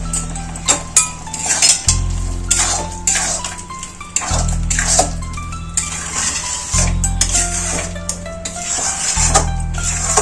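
Ridge gourd and onion poppy seed paste stirred in a pan over low heat, with repeated metal clinks and scraping against the pan over a low steady hum, close and clear, with no talking.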